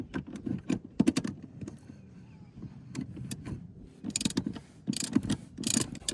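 Seat retaining screws being backed out of the 2nd-row seats of a 2019-2021 Ford Everest, held with Loctite: a string of sharp ratcheting clicks and metallic taps, close and moderately loud, arriving in bursts with short pauses between.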